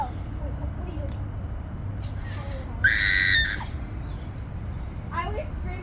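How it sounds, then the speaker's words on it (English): A person lets out a short, high, frightened scream during a gymnastics floor attempt. The scream cuts through steady room noise at mid-clip, with faint voice-like sounds around it. "I always scream when I get scared."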